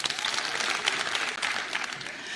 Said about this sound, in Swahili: Apigiwe makofi.